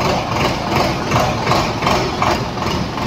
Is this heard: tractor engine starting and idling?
yes